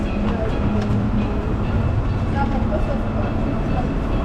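Rumbling rail ambience fills Rio's central train station, a steady low mechanical drone with faint clanks carrying on throughout, while voices murmur underneath.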